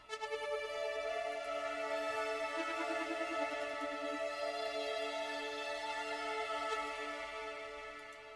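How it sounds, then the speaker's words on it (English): An additional synth melody layered into a trap beat rings out alone, sustained and bright, with a wavering figure in the middle before gradually fading toward the end. "After that I added this other synth."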